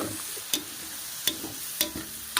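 Chicken sautés in a hot pan with garlic, onion and tomato, giving a steady close sizzle. A few sharp scrapes and taps from a stirring utensil come at regular intervals, and nobody speaks.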